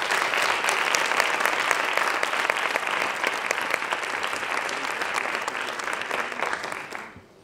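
A crowd at a Fuckup Nights event in Granada applauds warmly and steadily in a dense, continuous wash of clapping that carries on evenly and then fades out at the end.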